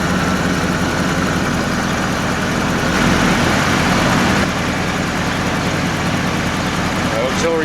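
A third-generation Camaro Z28 IROC engine idles steadily with its air-conditioning compressor running, producing a constant low rumble and hum that persists throughout.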